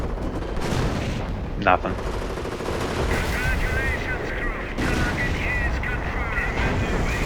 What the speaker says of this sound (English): So here comes another artillery barrage.